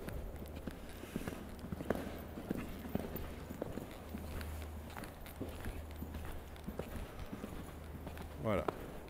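Horse hooves clip-clopping at a walk during a riding lesson in an arena, a loose, uneven rhythm of soft strikes while an instructor speaks in French over them.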